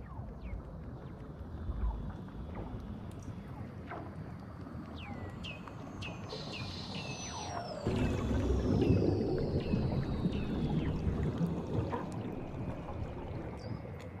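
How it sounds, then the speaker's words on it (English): Weddell seals calling underwater beneath Antarctic ice: eerie descending whistles and long sweeping trills repeat over a rumbling background that grows louder partway through. "these noises sound like alien radio signals in science fiction movies. They're actually the calls of Weddell seals."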